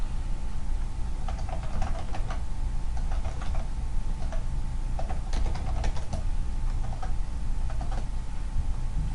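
Keys on a computer keyboard tapped in short irregular bursts while entering a library database search, close and clear over a steady background hum, with no talking.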